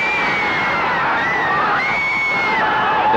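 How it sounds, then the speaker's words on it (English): Crowd in Sydney erupting in wild cheers as the city is named host of the 2000 Olympics: a loud, sustained roar of shouting and whooping voices with no break. "The crowd went wild,"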